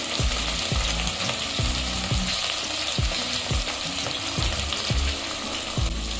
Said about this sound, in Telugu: చాలా దినుసులు వేసేసానండి ఉల్లిపాయలు మిర్చి కూడా వేసేస్తాను